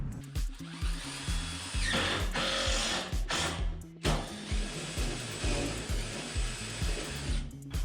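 A power drill drives metal-to-wood self-tapping screws while building an under-deck roof and ceiling system, a close whining motor with pulsing bursts and short pauses between screws.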